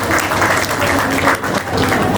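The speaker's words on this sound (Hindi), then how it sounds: "जोरदार तालियां हो जाए एक बार।" An audience at a creator meet in Kichha, Uttarakhand, breaks into loud, dense, continuous clapping that fills the whole moment close up, with no one speaking.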